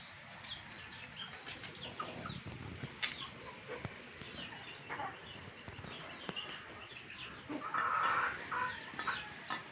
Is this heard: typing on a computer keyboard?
no